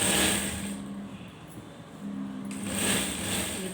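A sewing machine runs a side seam on a garment in two steady bursts of whirring with a short pause between them, moderately loud and close, with no talking.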